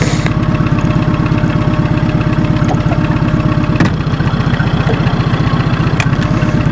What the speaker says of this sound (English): I'm going to have to use the motor to slow down my bait so I can drag the bottom properly